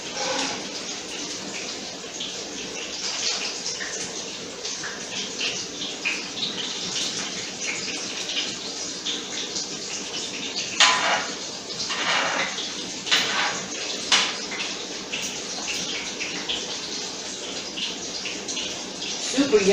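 Lentil patties sizzle steadily in a pan, a continuous crackling hiss with occasional louder pops and spatters, while a person talks over it at times.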